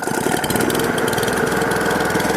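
A Trafalgar paddock vacuum's small petrol engine running right after starting, a loud, close, steady mechanical drone with rapid knocking pulses and no voices.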